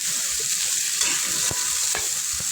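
Onion and chili stirred with a spatula in hot oil, a steady close sizzle with a few distinct scraping strokes against the pan, no talk.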